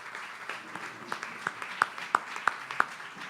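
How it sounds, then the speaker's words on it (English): Modest audience applause at a Broward College town-hall event, mostly scattered individual claps with a few sharp ones standing out near the listener. "How about a round of applause for David Armstrong"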